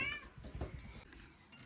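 A cat gives a short, faint meow indoors, heard alone in a quiet room.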